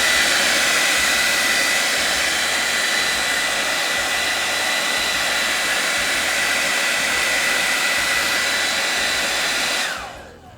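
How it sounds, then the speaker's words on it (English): A blow dryer runs on high heat, aimed at wax paper, giving a loud steady broadband whoosh that holds for about ten seconds and then cuts off abruptly at the end. "take your blow dryer and turn it on high heat, and blow dry the wax paper."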